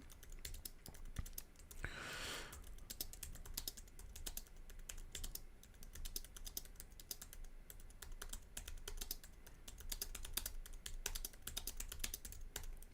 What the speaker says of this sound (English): Can y'all hear me typing?